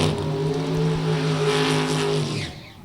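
Supercharged 1967 Ford Mustang drag race car on a drag strip at a Sportsnationals event roars loudly and steadily with a deep harmonic drone, then drops away near the end.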